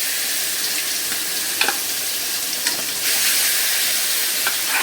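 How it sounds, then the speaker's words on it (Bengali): Fish frying in hot oil, a loud, dense, steady hiss with a few faint clicks, growing slightly louder partway through. "তেল গরম হয়ে গেছে, মাছগুলি দিয়ে দিই।"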